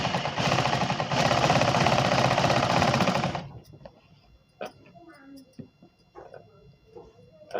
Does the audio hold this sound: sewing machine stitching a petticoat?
yes